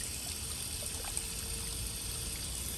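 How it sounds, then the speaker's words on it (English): Water runs steadily from a tap in a constant, even, hissing stream while something is scrubbed clean with a brush, a quiet and close sound with no talk. "Hopefully you can hear me over the water running, right?"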